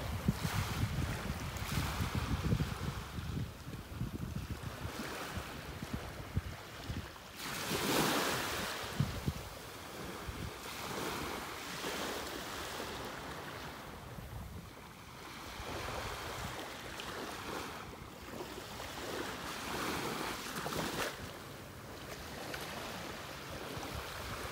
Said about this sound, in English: you can hear that wind hitting the microphone